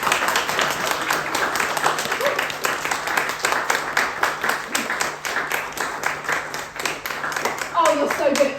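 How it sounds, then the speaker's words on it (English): Sustained audience clapping follows a spoken word poetry performance, a dense even patter of many hands over roughly eight seconds, with a voice starting to speak near the end. "you're so good at clapping for the right amount of time"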